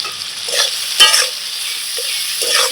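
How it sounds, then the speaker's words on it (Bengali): Potatoes, onions and chillies, with turmeric and salt, fry in a pan while a spatula stirs them: a continuous close sizzle broken by a few scraping strokes and one sharper clack. "আবার একটু ভাজা ভাজা করে নেব"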